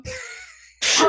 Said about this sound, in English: Have I not sneezed on mic before?